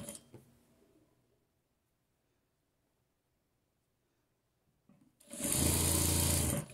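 A sewing machine, set to its smallest stitch length and fitted with a knit needle, stitches a rag doll's leg in a short, loud, fast burst near the end. Before it starts, there are a few soft handling sounds and a long silence.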